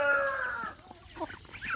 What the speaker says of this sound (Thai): นี่ที่ว่าไก่ประดูหางดำมอคอห้าห้านะครับ